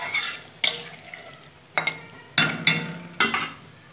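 Water poured into a pan of mustard and poppy seed gravy for a chapla fish curry, then stirred with a utensil: soft sizzling broken by five sharp scraping strokes against the pan, close and without talk.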